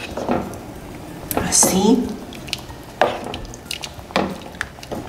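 Peanut sauce is stirred and poured over chicken in a pan, with wet squishing, a few utensil clinks against the pan and a brief pour, close up while a person speaks briefly.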